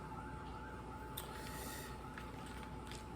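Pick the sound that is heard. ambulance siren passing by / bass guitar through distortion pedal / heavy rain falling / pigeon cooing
ambulance siren passing by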